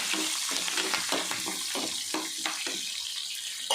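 Curry leaves and about twenty-five small shallots sautéing in hot oil, a close, bright crackling sizzle with repeated stirring scrapes in an irregular rhythm, no voice over it.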